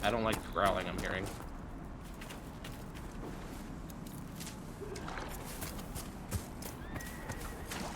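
Horse sounds in the game Dragon Age: Inquisition, with faint hoof clip-clops and a brief whinny over a steady ambient bed, with talking at the start.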